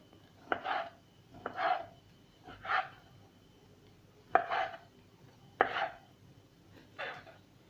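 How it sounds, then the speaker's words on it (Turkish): A knife chops through chicken meat on a cutting board, six firm, evenly spaced thuds with short pauses between them. "Evet etlerimi güzelce bir doğradım."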